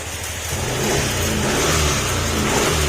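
A Yamaha NMAX 155 scooter that was swept away by floodwater runs and revs loudly up close. Its engine note rises and holds in a steady, rough drone, with no voices over it.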